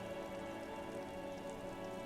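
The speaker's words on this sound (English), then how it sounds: "Rain falls down on the world." Steady rain falling in the video game Disco Elysium, a dense, even hiss of drops on surfaces with no voices.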